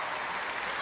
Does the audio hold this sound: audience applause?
yes